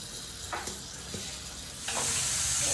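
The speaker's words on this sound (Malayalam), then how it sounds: "താളിക്കാൻ വേണ്ടിയിട്ട് ചെറിയ ഉള്ളി, ചുവന്നുള്ളിയും പച്ചമുളകും കൂടി എണ്ണയിൽ ഇങ്ങനെ മൂക്കുകയാണ് കേട്ടോ" Small shallots and green chilies frying in oil for a Kerala-style tempering give a soft, steady sizzle, with a few light utensil knocks before the hiss swells louder near the end.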